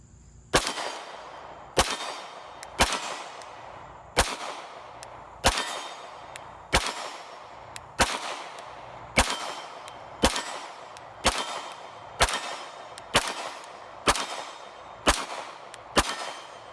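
Repeated sharp gunshots from a CZ P-07 pistol at an outdoor shooting range, fourteen loud cracks fired at a steady pace about one second apart, each with a short ringing decay.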